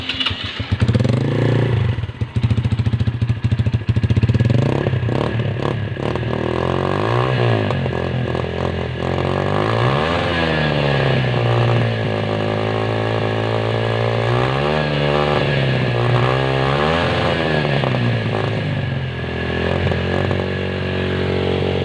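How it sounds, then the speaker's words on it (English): A motorcycle fitted with a 470mm Akrapovic exhaust pipe starts up and runs loud and close, settling into a rough idle broken by repeated throttle blips that rise and fall in pitch. "Let's start the engine."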